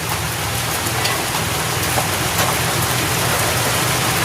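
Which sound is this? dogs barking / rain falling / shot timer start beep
rain falling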